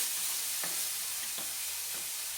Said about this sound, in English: Gonna give that a little stir.